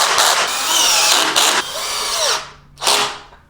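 A power drill drives bolts back into the handles of a Veteran Patton-S or Lynx-S wheelchair during a tire change, running in four loud, close whirring bursts separated by short pauses, with no talking.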